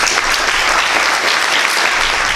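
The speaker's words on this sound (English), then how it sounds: "I would like you all to have a round of applause for Atina, Carolina and Liz" Loud, dense applause from the audience at an aquaculture careers day, a continuous wash of many hands clapping close by, with no voices breaking through.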